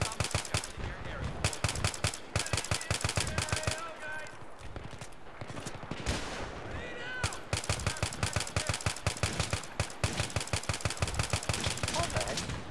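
Video game gunfire, rapid bursts of automatic weapons firing in close succession, loud and nearly continuous with brief gaps, a voice speaking now and then beneath the shots.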